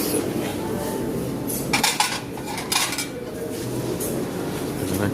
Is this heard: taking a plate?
yes